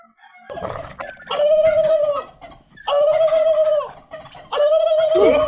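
Turkeys gobble loudly in three long bursts, each a rapid warbling call with brief pauses between them, close by.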